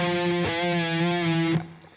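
Distorted electric guitar sustaining a held note from a riff, with a slight pitch rise from a half-step bend, loud and close, then cutting off and fading.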